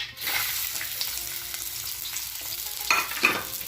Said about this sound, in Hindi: ऑनियन को फ्राई करते हैं।